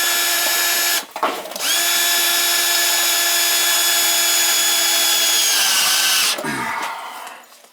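A power drill drives screws while a 40-gallon gas water heater is replaced. It starts with a brief close burst, pauses for a moment, then runs steadily for several seconds, and a final burst trails off.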